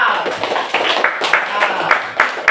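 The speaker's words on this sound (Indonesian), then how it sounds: "Tepuk tangan untuk kelompok 4." Classroom applause for a presenting student group: a short burst of many hands clapping, loud and close, with voices mixed in beneath it.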